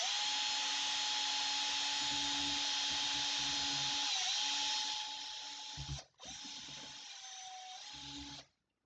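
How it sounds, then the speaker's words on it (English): A power drill drilling a hole in a bottle whines steadily at high speed, its pitch dipping briefly under load, stopping for a moment, then revving again before shutting off. "I'm just using a drill real quick to make a hole in here"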